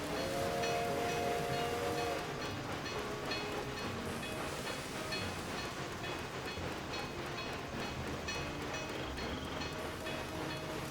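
A train runs along rails in the Railway Empire 2 game, heading from Moncton toward Halifax with a full load. It makes a steady, continuous rumble and clatter, with a hiss like rain underneath and no voices.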